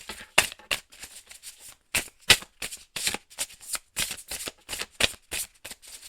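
Tarot cards being shuffled and drawn, a rapid series of crisp riffling snaps and flicks in irregular bursts, close and clear with no talking.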